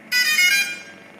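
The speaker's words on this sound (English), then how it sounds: "the sound you just heard indicates the activation of the quadcopter" DJI Phantom 3 Professional quadcopter powering on, giving one bright electronic tone burst of about half a second that fades quickly, close and clear with no talking.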